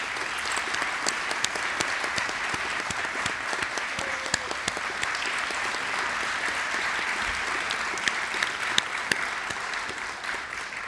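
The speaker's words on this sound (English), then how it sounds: "May I ask you to stand and the audience to join me in a round of applause to honor his" An audience applauds steadily at a university induction ceremony honoring an inductee, a continuous wash of many hands clapping at moderate distance, with no talk over it.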